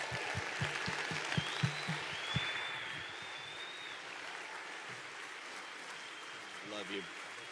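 Soft, distant applause from a church congregation welcoming Pastor Robert Furrow and his wife, a low steady wash of clapping with a few sharper claps early on and faint voices underneath.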